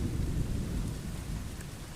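Heavy rain pours down during a thunderstorm with a continuous low rumble of thunder beneath it, a dense steady wash of sound with no voices.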